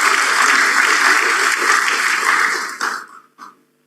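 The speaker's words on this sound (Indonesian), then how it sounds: "Aplaus lagi untuk kita semuanya." Audience applause at a corporate sustainability day event for PLN, a dense, steady clapping from a large crowd that holds loudly for nearly three seconds, then thins into a few scattered claps and stops.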